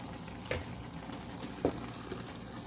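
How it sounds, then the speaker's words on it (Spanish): Zucchini and chicken simmering on low heat in a glass-lidded pan, releasing their own juice, giving a steady soft bubbling sizzle with a couple of faint pops, quiet and continuous. "ya está hirviendo y soltó su jugo la calabacita"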